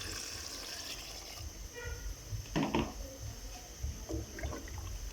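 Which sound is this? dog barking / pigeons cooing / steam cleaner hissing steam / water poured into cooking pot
water poured into cooking pot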